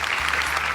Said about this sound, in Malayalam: നന്നായിട്ടൊന്ന് കൈയടിച്ചേ